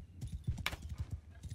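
A horse's hooves clip-clop rapidly and evenly in the medieval combat game Mount & Blade 2: Bannerlord, close and fairly loud, with one sharp brief clash partway through.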